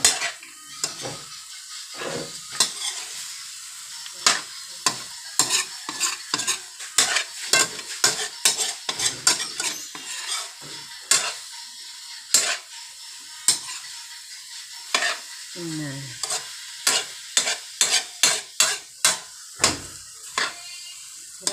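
Bitter melon (ampalaya) sizzles in a frying pan while a utensil stirs and scrapes against the metal in repeated sharp clinks, a steady irregular rhythm close up with no talking.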